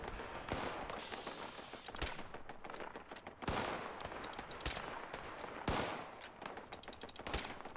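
Repeated loud blasts from an anti-armor explosive pipe rifle in Fallout 76, fired in sharp bursts about every second or two against a busy combat background.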